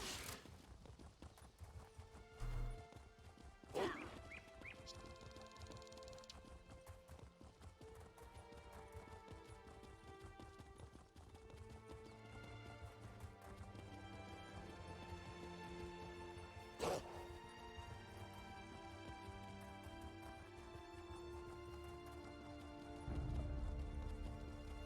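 Horse hooves clip-clopping in The Elder Scrolls Online, a steady quiet rhythm of hoofbeats running under game music, with a few louder impacts scattered through and a heavier rumble near the end.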